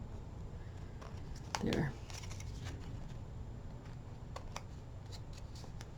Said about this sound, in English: I'm just going to kind of snip these off on the sides.